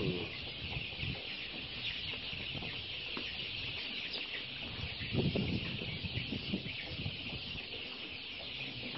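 Broiler chickens about four weeks old cluck and chatter continuously in a poultry house, a steady dense flock noise with no speech.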